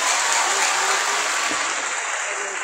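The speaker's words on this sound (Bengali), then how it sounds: "এটা জোরে হাততালি।" Audience at a quiz contest award ceremony applauding, a dense, loud, sustained wash of clapping from many hands that eases slightly toward the end.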